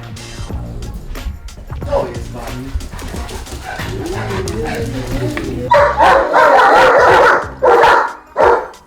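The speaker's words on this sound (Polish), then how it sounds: "jak zaczynają szczekać, bo to są tak wyszkolone, że po chwili przestają szczekać" Two large household dogs barking indoors, a loud burst of repeated woofs in the second half after whimpering and yips, with a person talking under the earlier part.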